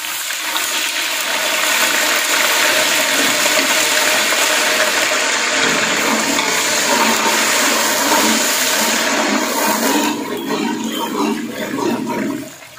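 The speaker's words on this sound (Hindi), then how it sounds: "पानी की यहां पे लगानी है छींट" Water splashed into a pan of frying garlic and ginger while cooking Arabian kabsa, a loud steady hiss and sizzle lasting over twelve seconds before easing off at the end.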